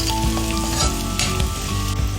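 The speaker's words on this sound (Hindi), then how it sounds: "अभी ये हींग ऐड कर रही हूँ, देन टर्मरिक पाउडर, इसको गोल्डन ब्राउन हम भूनेंगे।" Asafoetida and turmeric powder fry in hot oil in a pan, giving a loud, continuous sizzle and crackle with faint stirring scrapes, no voices.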